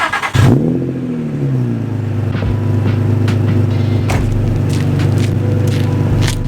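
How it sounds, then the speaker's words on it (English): A car exhaust with the muffler deleted revs sharply at the start, then settles into a loud, deep, steady idle with a rough droning rumble and occasional crackles, close to the microphone. "the Muffler Delete is a lot louder, and on idle you can kind of hear that this exhaust actually sounds a lot deeper"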